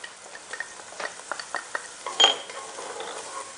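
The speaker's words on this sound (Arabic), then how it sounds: "هنضيف التوم" Garlic goes into a pot of frying onions for maqluba with lamb and basmati rice, and a soft sizzle runs under a series of light stirring clicks and utensil taps against the pot. One louder clatter comes partway through.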